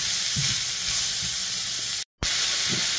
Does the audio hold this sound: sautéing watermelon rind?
yes